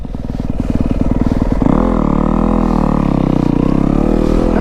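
A dirt bike engine revs hard during a ride through snow, first a rapid low chugging, then a rising, sustained roar that stays loud and close.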